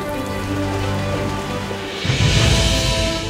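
Monsoon rain in India falling steadily, a dense close hiss of drops on surfaces that grows heavier and rougher partway through.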